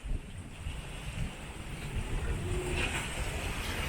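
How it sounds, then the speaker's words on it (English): Wind and waves while a sailboat crosses a Bahamas channel in about 20 knots of breeze. Steady wind roars across the microphone over a rushing, splashing wash of water against the hull, continuous and fairly close. "a good stiff 20 knots of wind"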